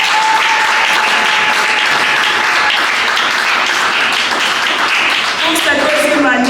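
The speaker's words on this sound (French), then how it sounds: "Nous pouvons l'applaudir quand même." An audience at a graduation ceremony breaks into sustained applause, dense and loud throughout, with faint voices mixed into the clapping.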